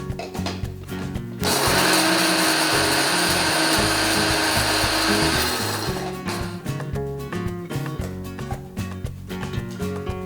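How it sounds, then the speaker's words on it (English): An electric spice grinder whirs loudly for several seconds as it coarsely grinds cardamom, cinnamon stick and cloves, preceded and followed by clattering and rattling of the whole spices in the jar. "Cardamom, cinnamon stick, and a few cloves goes into the grinder. Grind very coarsely."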